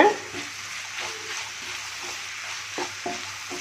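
Sliced onions, green chillies, curry leaves and salt stirred in a pan for egg gravy, giving a soft, steady sizzle with a few faint spatula scrapes close by and no voices.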